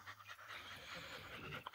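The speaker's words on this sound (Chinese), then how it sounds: "你看给小狗热成啥样了" A small dog panting hard in the heat at an outdoor wedding photo shoot, quick rhythmic breaths close by, with faint voices and background noise around it.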